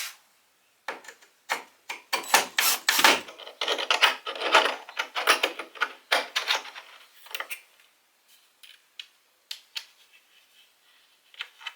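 Tightening screws on bathroom hardware fixtures from a towel bar and ring set: a quick run of close ratcheting clicks and scraping turns, busy at first then thinning to scattered ticks.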